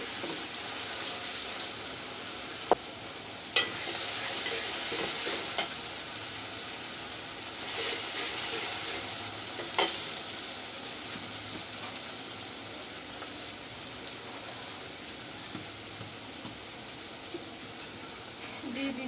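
Onions sizzle and crackle steadily in a hot pan, a continuous hiss with occasional sharper pops and stirring scrapes.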